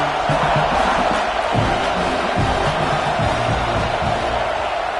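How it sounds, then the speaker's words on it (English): A big football stadium crowd roars without a break during a red-zone defensive stand in a Georgia–Oklahoma game, a dense, steady wall of noise with shouts and cheers rising and falling inside it. "And here comes the noise. This crowd is trying to inspire this defense to make a big red zone stop."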